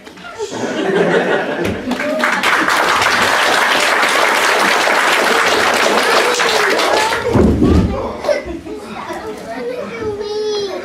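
Audience at a homeschool production of the play The Ugly Duckling breaks into loud sustained applause with children's voices, laughter and a few thuds mixed in, then the clapping fades as people chatter.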